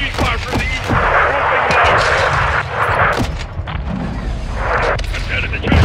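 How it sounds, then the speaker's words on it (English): Gunfire and heavy explosions from RPG attacks in the Call of Duty Modern Warfare II (2022) video game, a dense, loud barrage of booms and shots with voices talking over it. "we're taking RPG fire from the east"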